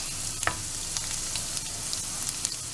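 Garlic frying in hot oil in a pan for vegetable masala gives a steady, close sizzle with a few scattered crackles and stirring clicks, and no talk.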